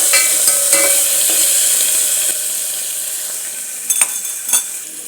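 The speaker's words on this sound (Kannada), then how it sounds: "ಆ ಮಸಾಲೆನ ಇದರೊಳಗೆ ಹಾಕ್ಕೊಳ್ಳೋಣ. ಇವಾಗ ಸ್ವಲ್ಪ ಇದನ್ನು ಕೈಯಾಡಿಸ್ಕೊಳ್ಳಿ." Freshly ground masala frying in a pan for jeera rice makes a loud, steady sizzle that eases off partway, with a few scraping stirs and clinks near the end, and no voices.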